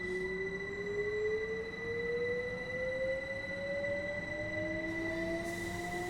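A train rolls steadily through Train Sim World 2 on the line into Brighton, with a constant engine drone, a slowly rising motor whine and a steady rumble, and no voices.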